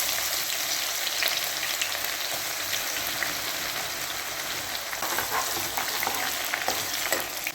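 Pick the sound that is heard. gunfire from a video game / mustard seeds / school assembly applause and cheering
mustard seeds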